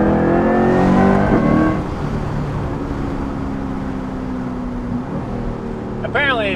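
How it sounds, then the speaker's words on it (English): A Corvette C8 sports car with a Valvetronic Designs exhaust revs hard close by, then settles into a steady low rumble with a sharp blip of throttle near the end. "We'll put the top back up just so we can get some more pure exhaust noise."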